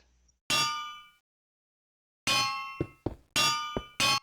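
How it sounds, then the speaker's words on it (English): Several bright metallic clangs from a Minecraft anvil ring out with pauses between them, one lone strike and then a quick run of hits, each decaying like an anvil. "Anvils will now make the right sound again."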